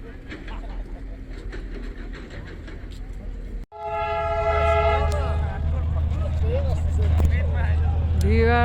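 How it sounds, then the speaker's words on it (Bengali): Darjeeling's heritage toy train rolls in with a loud, sustained horn blast and a rumbling, clattering approach close by, over a busy background. "আপনারা দেখেন টয় ট্রেন আসতেছে, দার্জিলিংয়ের ঐতিহ্যবাহী টয় ট্রেন"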